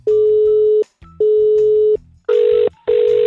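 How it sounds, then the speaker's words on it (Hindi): Phone line disconnect tone during a radio prank call: four loud, steady beeps, two longer ones followed by two shorter, harsher ones, with brief gaps between them. "फोन गॉट डिस्कनेक्ट हो गया"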